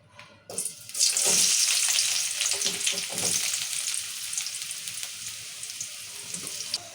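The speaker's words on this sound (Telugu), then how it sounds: "ఇప్పుడు నూనె వేడైంది ఉల్లిగడ్డలు వేసుకుందాము" Chopped onions drop into hot oil in a home kitchen pan, bursting into a loud, dense sizzle that stays steady with crackling spits and gradually eases a little in intensity, heard up close with no voices.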